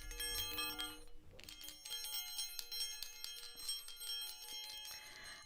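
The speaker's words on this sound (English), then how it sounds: "Got my little bell." Small hand bell ringing in bright, sustained metallic tones, struck a few times with shimmering overtones lingering between strikes, fairly quiet and close.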